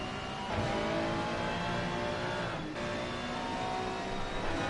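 An Aston Martin AMR V8 GT3 race car engine in the ACC racing game drones steadily at sustained high revs at Zandvoort, a continuous moderate roar with slight pitch changes and no speech.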